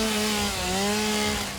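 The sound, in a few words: chainsaw cutting wood in a video game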